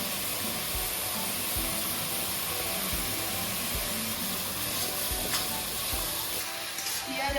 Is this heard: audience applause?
no